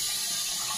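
Water running steadily into a Grohe toilet cistern, a brief continuous hiss of flow with no voices.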